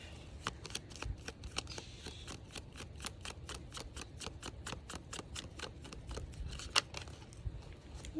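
Oracle message cards shuffled by hand, a quick steady run of crisp riffling flicks repeating evenly, close and fairly quiet, with no talk.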